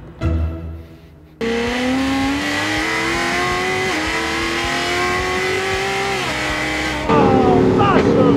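A Fiat Multipla modified to 1294 horsepower roars up hard and holds a high, strained pitch as it accelerates, shifting and surging again near the end; loud and close.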